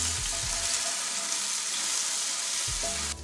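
Two chilies and two garlic cloves sizzle and fry in olive oil on a Kamado Joe grill, a loud steady hiss close up with brief clanks of stirring at the start and end.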